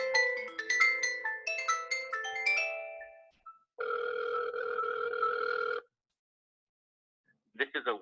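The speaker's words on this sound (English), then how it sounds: "My cell phone's actually going to ring." A cell phone rings with an incoming call: a quick melodic tone pattern, then a sustained buzzing ring, then a short burst of tones starting again, all loud and alone.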